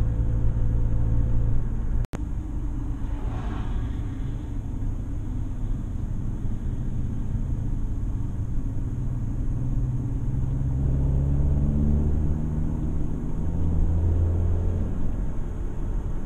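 A car drives up the Beartooth mountain road near Yellowstone's northeast entrance through clouds and ice pack, a low steady engine rumble with road noise heard from inside, broken by one sharp click.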